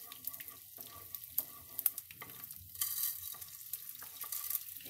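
Edible gum (gond) frying in hot ghee for wheat-flour gond laddu, a steady crackling sizzle with bursts of popping as the pieces puff, stirred now and then, close and moderately loud with no talk.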